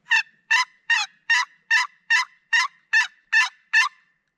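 Wild turkeys gobbling at dusk during an April turkey hunt, a rapid run of about ten sharp, evenly spaced gobble notes, fairly close and clear against an otherwise silent evening with no talk.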